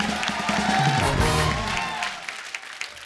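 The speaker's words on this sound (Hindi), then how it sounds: "मेरी इस स्मार्ट इंटेलेक्चुअल बात के लिए जोरदार तालियां बनती हैं" Studio audience applause on a Hindi comedy talk show, a burst of clapping and cheering mixed with music that swells, then thins out and fades into scattered claps.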